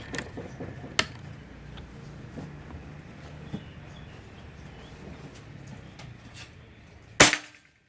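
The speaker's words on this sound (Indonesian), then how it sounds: "Tembakan terakhir yang pakai Canon Rocket." A single sharp, loud crack of a Bocap Pajero Gen 5 PCP air rifle shot firing a Canon Rocket pellet near the end, after a quiet stretch with a fainter snap early on.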